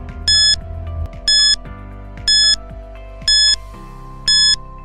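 Quiz timer alarm beeping: five loud, evenly spaced electronic beeps about a second apart over a low humming tone, with no speech.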